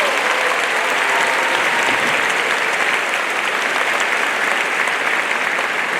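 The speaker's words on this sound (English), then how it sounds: "please join me in giving your parents a well-deserved round of applause" Graduating class and audience at a high school graduation ceremony applauding the parents, a loud continuous roar of many hands clapping at once, steady and unbroken for several seconds.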